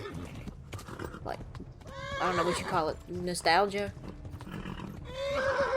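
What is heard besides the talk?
horse neighing and hooves in Kingdom Come: Deliverance video game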